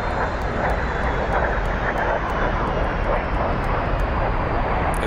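Steady, loud aircraft engine roar from a stalled plane in the DCS flight simulator, a Star Wars-themed rebel strike mission, droning continuously and close throughout with no break.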